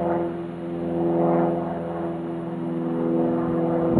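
A propeller airplane flies overhead outdoors, its steady droning hum layered with harmonic tones that swell and ease slightly over a few seconds, loud and continuous with no talking.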